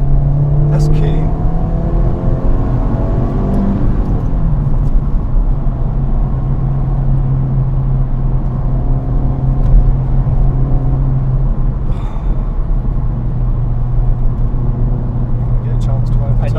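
A Honda Civic Type-R FK8 accelerating on the road, heard from inside as a steady droning engine and road roar with rising pitch early on, while a person talks over it.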